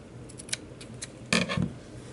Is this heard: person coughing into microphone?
no